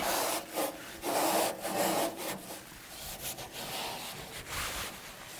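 Rough rhythmic scrubbing against a coarse surface, rasping strokes back and forth like sanding, close and fairly quiet.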